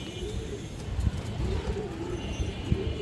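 Several pigeons at a pigeon farm, including red-feathered birds, coo steadily in soft repeating rolls, a close low murmur with light background bustle throughout.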